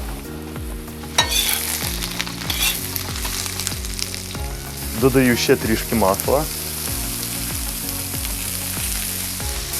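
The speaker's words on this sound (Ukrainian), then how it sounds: "Гриби миттєво смажаться за рахунок високої температури в казані." Mushrooms frying in a very hot kazan while being stirred: steady, close crackling sizzle throughout, with metallic scraping strokes and a brief louder burst midway, and a voice talking quietly over it.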